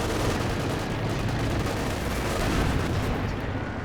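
Sustained, loud Maxim machine gun fire in the strategy game Company of Heroes 2, a dense rattling battle din that runs unbroken from start to finish with no voices over it.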